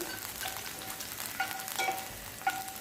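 Green chillies hit about two tablespoons of hot oil in a pan, producing a soft, steady sizzle with faint crackles and a few light pops, quiet and brief, with no voices.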